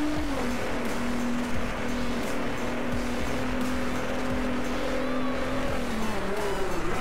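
A Nissan GT-R NISMO race car in Driveclub multiplayer holds a loud, sustained engine drone, with the pitch dipping slightly near the end amid faint tyre squeal.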